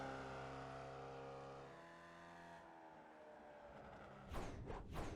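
A race car engine in iRacing revs through falling pitch as it lifts off, then a quieter stretch before two sharp, loud bursts of acceleration near the end, heard close with no talking.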